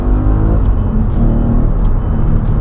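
An Audi RS4 V8 quattro with 420 hp accelerating hard at full throttle, a loud, close engine roar that builds steadily with gear-linked shifts in tone.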